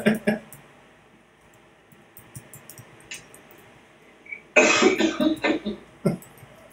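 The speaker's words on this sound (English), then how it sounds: "Oh, I got a cough." A person coughs a few times, a couple of short coughs early and a louder cluster of harsh coughs later, close by.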